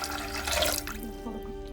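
Water pours into a pressure cooker holding washed green peas, a brief close splashing rush that fades after a second into quieter trickling, with no talk.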